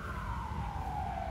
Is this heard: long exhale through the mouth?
no